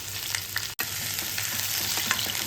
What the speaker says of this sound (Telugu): ఉల్లిపాయల్ని దోరగా వేయించుకోవాలి